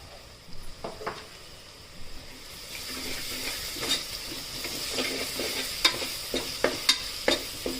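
Ginger-garlic paste with turmeric frying among onions for mutton curry, a steady close sizzle broken by repeated spoon-scraping stirs that grow busier toward the end, no voices.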